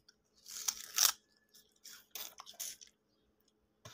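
Someone chews and bites on salty, unsweet sugarcane: close, quiet crunching and wet squishing bites in short bursts, with pauses in between and no talk.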